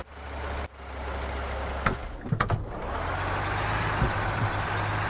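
A truck engine in the driving game Truck Mechanic: Dangerous Paths gives a loud, steady rumbling drone that drops out briefly, then returns, with a few clunks and knocks partway through.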